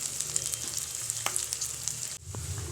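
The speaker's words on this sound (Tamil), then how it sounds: "இப்போ தாளிக்கலாம்." Chopped carrot, beans, onion, green chili and curry leaves sizzle steadily in hot oil in a pan, tempering for veg Maggi noodles, with a brief dip in the hiss near the end.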